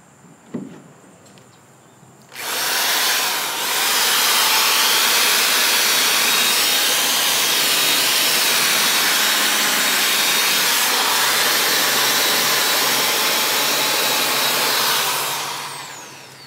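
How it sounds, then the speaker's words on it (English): A loud, steady high-pitched whir of a 1/2-inch drill spinning a 3M Scotch-Brite abrasive pad to scuff aluminum starts abruptly after a faint knock and runs continuously. "This is just a Scotch-Brite pad from 3M that I'm running in my 1/2-inch drill"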